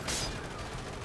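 A sniper rifle fires a single sharp shot in the video game Paladins, a loud burst at the start that quickly decays into a fading tail.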